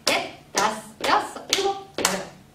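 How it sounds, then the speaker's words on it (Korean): Five sharp hand claps land about half a second apart in a steady beat, loud and close, during an adult dance class where people walk lightly in place while clapping. "제자리에서 가볍게 걸으시면서 박수 치시면 되겠습니다."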